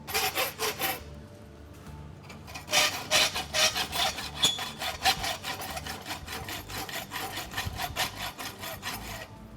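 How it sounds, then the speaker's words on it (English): A farrier's rasp is drawn back and forth across the heel of a hunter hind caulk-and-wedge horseshoe, giving rough, rhythmic scraping strokes that are close and steady and heard with no talking. "now I'll just have a quick heat on the heel just to finish the heel off and rasp it up"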